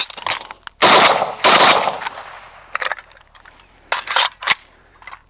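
A WASR 10/63 rifle fires at a competition, giving loud, sharp reports in irregular clusters, with metallic clatter and handling noises between shots, close to the shooter.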